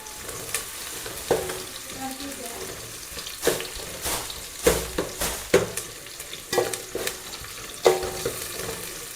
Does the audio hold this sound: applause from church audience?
no